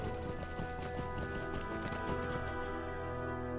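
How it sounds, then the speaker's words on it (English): In the video game The Lord of the Rings Online, a horse rides along at a steady pace, with hooves clip-clopping rhythmically and fairly softly under a constant layer of game ambience and music. "My horse, Aramberdir, has drawn up lame."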